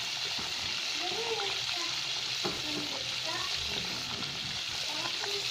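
Vegetables for ginataang monggo cooking in a pan, making a steady bubbling sizzle with faint stirring, while a voice speaks softly over it.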